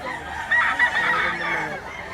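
Bullstag roosters cluck at a poultry market in Lipa, Batangas, with a loud, close, continuous run of clucks and squawks and a crow-like call, amid faint background noise.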